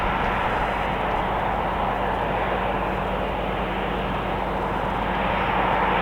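A jet airliner at Madrid Barajas Airport, a steady loud engine roar and rumble holding broad and unbroken throughout, with no speech over it.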